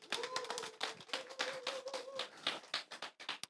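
Scattered hand claps from a small in-person gathering greeting a lecturer, sharp uneven taps close by, with brief voices mixed in.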